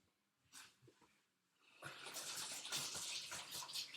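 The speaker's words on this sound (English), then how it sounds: "make sure you wash your hands." Tap water running while hands are washed in a kitchen, a soft splash at first, then a steady, fairly quiet rushing stream with light splashing, nearby and without talk.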